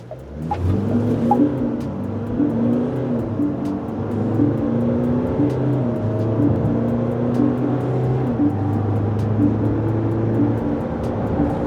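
An MG U9 Explore Pro 4x4 plug-in hybrid pickup launches from a standstill in sport mode and accelerates hard toward 100, its engine drone loud and continuous with gear-change steps throughout, no talking.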